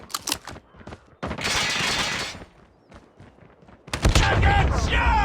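Gunfire in the video game Call of Duty Mobile: sharp rapid shot bursts at the start, then a sustained noisy burst of automatic fire, and heavy close blasts again toward the end.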